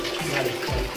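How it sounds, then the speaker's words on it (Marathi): Water runs steadily from a tap feeding a smart electric water heater, making a close, continuous rushing hiss with no voices. "आता हे मी पाणी चालू केलं"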